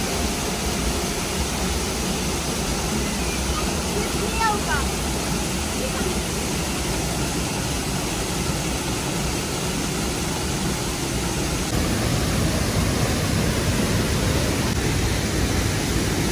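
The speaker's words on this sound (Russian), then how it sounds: "Сейчас вы услышите этот звук бьющей воды с гор." Steady, dense roar of a mountain waterfall at the Pozar thermal baths in Greece, constant and loud throughout, water pouring down nearby.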